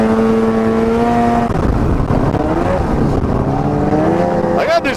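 An Arctic Cat ZR 800 snowmobile engine runs loud and close, a steady, rough mechanical drone whose pitch slides up and down as the throttle shifts.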